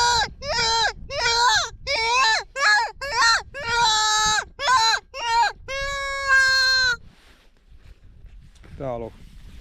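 A predator call whistle imitating a hare distress call: about nine loud, wavering, bleat-like wails in quick succession, close to the listener, followed by a quieter pause and one fading final squeal.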